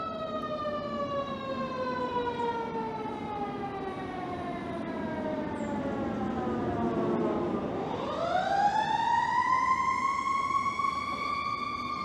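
An ambulance siren wails at a dog obedience test, a long falling tone that dips and then sweeps sharply back up, loud and steady with no talk over it.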